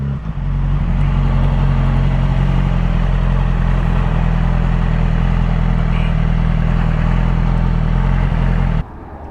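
A Yamaha R6 sport bike being ridden, its engine droning loud and steady with wind noise for about nine seconds before cutting off abruptly.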